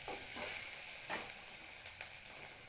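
Dried prawns sizzle and fry steadily in a pan, a close, continuous hiss broken by a few sharp pops and stirring scrapes, with no talking.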